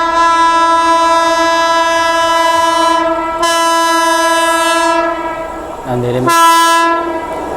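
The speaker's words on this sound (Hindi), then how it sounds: "अपनी ट्रेन को जो है ओवरटेक करने वाली है ट्रेन" A train rolls past alongside a stopped train on an Indian rail line, its long, loud horn blaring in drawn-out blasts with a short gap and a final shorter honk, over steady rumbling, with a few words spoken briefly.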